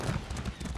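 Horse hooves clip-clop in the video game Elder Scrolls Online, a quick run of muffled rhythmic thuds at a close, even gait with no talking.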